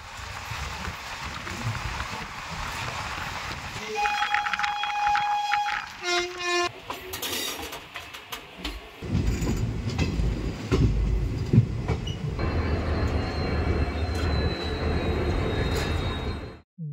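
Passenger train pulling away and running on the route toward NJP station, with a sharp horn blast and screeching tones early, then a steady rumble and clatter of wheels on rails close by.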